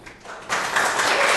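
Audience applause breaks out at a Board of Supervisors meeting, starting suddenly partway through as a dense, fairly loud wash of clapping that continues steadily to the end.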